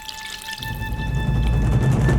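Golden broth is poured into a bowl of ramen noodles seasoned with soy sauce and sesame oil: a short, close, steady liquid pour that starts after a brief faint pause and runs smoothly for about two seconds.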